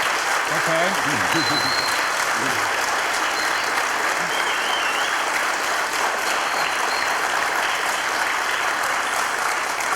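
Sustained audience applause fills the hall at a church-and-state debate on God and Darwin, steady and loud throughout, with a brief spoken word from a moderator under it.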